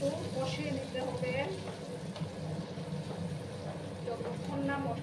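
Spices with turmeric fry in oil for tel koi, giving a faint, steady sizzle with soft stirring scrapes throughout, close and quiet.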